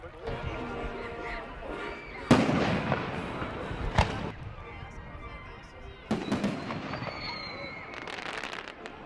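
Fireworks bursting outdoors after a baseball game on the 4th of July, several loud booms spaced a few seconds apart with crackling tails, over a steady crowd murmur and distant voices.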